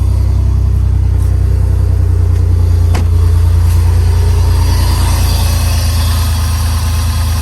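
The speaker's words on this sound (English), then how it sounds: "It's literally not firing on cylinder 3." A Jeep WJ Grand Cherokee engine idling rough with a misfire and no compression on cylinder 3, a loud, close, uneven low rumble with a lumpy shaking pulse and no voices.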